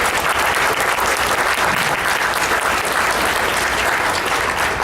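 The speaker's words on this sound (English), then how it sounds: "Give a huge round of applause" Loud, dense crowd applause fills the room without a break as a motivational speaker is introduced, constant and full from start to end.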